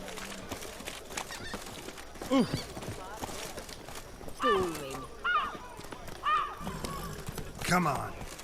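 Horse hooves clopping in The Witcher 3: Blood and Wine after the horse is called, a few short rhythmic bursts of gallop or trot mixed with game sounds and tonal voice or music swells.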